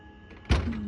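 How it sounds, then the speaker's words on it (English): A single heavy thud against barn doors lands close by, followed by a lingering low hum and faint rattling in an otherwise quiet space. "I hear banging on the roof."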